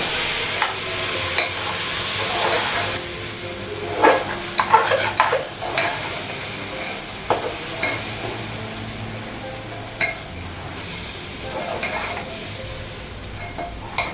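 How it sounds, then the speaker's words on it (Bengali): Rice fried with spices in a home kitchen pan gives a soft continuous sizzle punctuated by frequent sharp scrapes and knocks of a stirring spoon, close up, with no one speaking. "চালটা ভাজা হয়ে গেছে"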